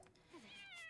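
Cartoon cat meowing in a snowy cozy video game, a short rising mew over faint background music, close and clear.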